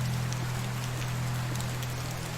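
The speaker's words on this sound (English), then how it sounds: "It's raining." Steady rain hiss from the video game Medieval Dynasty, a dense continuous wash of falling drops with a low constant hum underneath, even and unbroken with no voices.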